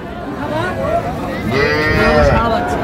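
A young Sahiwal calf moos loudly and close by, one long drawn-out call rising then falling, with a second bovine call overlapping.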